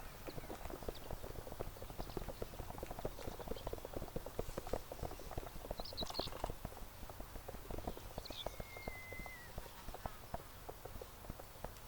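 Horse hooves clip-clop in a video game, a quick steady gallop of close, rhythmic strikes running the whole time at a low level, with a faint whistle-like tone midway.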